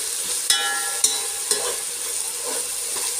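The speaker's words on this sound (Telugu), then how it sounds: "నేను బాగా కలుపుకున్నాను." Onions, tomatoes and ginger paste are stirred in an electric cooker. A spoon scrapes and taps the pot about every half second over a steady sizzle, with no talking.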